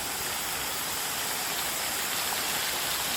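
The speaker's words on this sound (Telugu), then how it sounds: "దారి మధ్యలో వాటర్ ఫాల్" A waterfall beside a bamboo trekking trail in India roars with a steady, dense rush of falling water, close and loud, with no voices over it.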